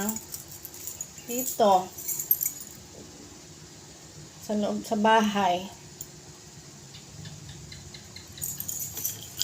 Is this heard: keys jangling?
yes